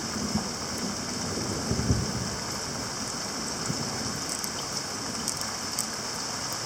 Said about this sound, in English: Rain's picking up now too.